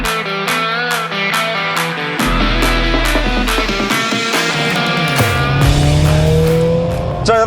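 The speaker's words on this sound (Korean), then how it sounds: "제가 지금 타고 있는 이 CLA 45S AMG" Mercedes-AMG CLA 45 S accelerating hard, a loud close engine note climbing through the revs with sharp gear shifts and a deep rumble midway, continuous and dominant throughout.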